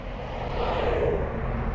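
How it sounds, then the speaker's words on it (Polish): A Kaabo Mantis 8 electric scooter accelerates on a single motor, giving a steady rising whir with wind and road rush building briefly, with no voices. "To jest przyspieszenie na pierwszym, na jednym silniku, tylko i wyłącznie."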